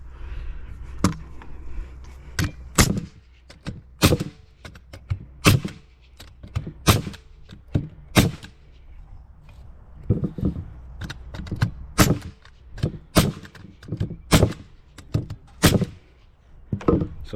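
A Banks 21-degree framing nailer drives nails into pieces of 2x4 lumber: a long series of sharp, close pneumatic bangs, fired singly and in quick pairs at irregular intervals, with no talk over them.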